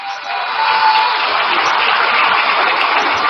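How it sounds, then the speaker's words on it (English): A crowd at the NDC manifesto launch gives a round of applause, steady dense clapping swelling quickly and holding loud, with faint crowd noise beneath. "A round of applause for him."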